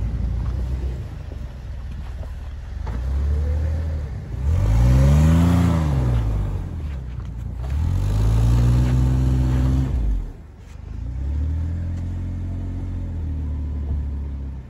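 A Jeep fitted with an Eaton Truetrac differential revs repeatedly, its engine rising and falling in three long sweeps as the wheels spin, loud and close with a steady idle between pulls.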